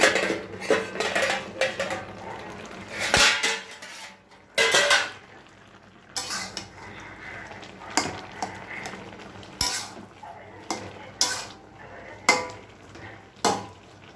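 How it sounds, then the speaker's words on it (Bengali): Metal pot lid lifted off and set back during stovetop cooking of a pumpkin and Malabar spinach dish with prawns, with clattering clinks and knocks of cookware at irregular intervals over a soft background hiss. "ঢাকাটা তুলে দেখি হয়েছে কিনা।"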